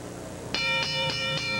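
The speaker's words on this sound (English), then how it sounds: "when the bell rings" A boxing ring bell at a pro fight clangs four times in an evenly spaced series, each strike bright and ringing with a sustained metallic tone, loud over a steady hum of arena crowd noise.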